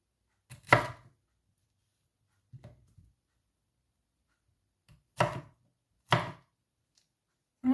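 Knife chopping pineapple on a cutting board: a few sharp, isolated chops spaced out by silence, close and clear, with no talking.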